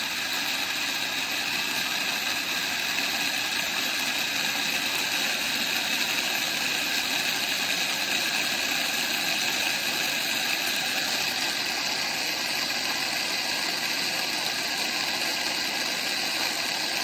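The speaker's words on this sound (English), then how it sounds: "You can hear all the water going by with the friction." Steady rushing of water forced through an irrigation pump pipeline on a farm working romaine residue, blended with the continuous drone of the nearby engine; constant, close and unchanging, with no voices.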